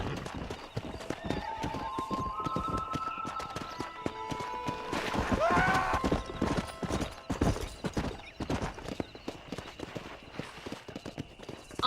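Horse hooves clip-clop at a galloping pace in Red Dead Redemption, with steady, close, loud hoofbeats and a whinny partway through.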